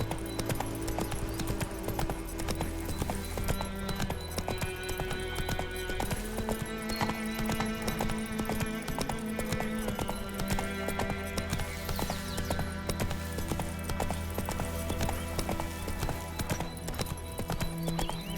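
In The Witcher 3, horse hooves gallop with a continuous rapid clip-clop that stays steady and prominent over a dense, layered game soundscape.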